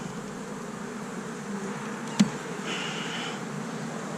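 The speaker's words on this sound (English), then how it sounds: "Don't sting me, bees." Honey bees buzzing around an open hive during a spring inspection, a steady soft droning hum close to the microphone with one sharp tap partway through.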